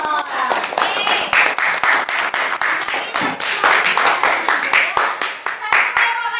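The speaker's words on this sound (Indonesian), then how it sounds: "Tepuk tangan untuk kelompok 2" Students in a classroom clap for a group of classmates, giving fast, sharp, close-up handclaps in a steady rhythm that lasts throughout, with a few voices mixed in.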